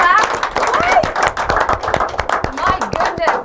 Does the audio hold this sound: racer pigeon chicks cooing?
no